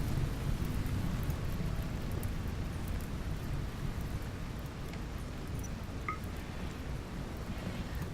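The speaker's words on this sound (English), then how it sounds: "Just gonna let the rain take care of that." Steady rain with rumbling thunder in the RimWorld game, a dense continuous wash of downpour throughout.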